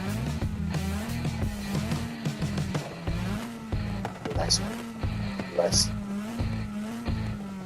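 Racing car driven in NFS Heat or Forza Horizon, a stock Volkswagen GTI with only visual changes, its engine droning and revving loudly and steadily with brief tire squeals, while a voice speaks a single word.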